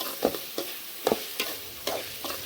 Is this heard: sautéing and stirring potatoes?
yes